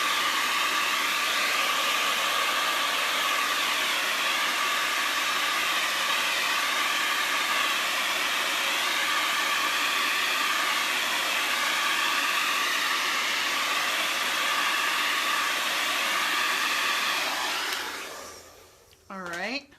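Held close, a hair blow dryer drying wet paint on a sunflower painting gives off a loud, steady rushing whir with slight wavering for most of the time, then switches off and winds down near the end.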